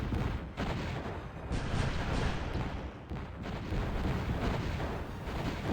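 Heavy, rolling friendly-fire explosions in the real-time strategy game Zero-K, with repeated booming blasts and a rumbling low end throughout. No talk is heard.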